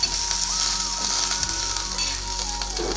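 Spices and urad dal frying in hot oil for Tulu-style pathrode, a close, steady crackling sizzle with faint stirring, continuous and without speech.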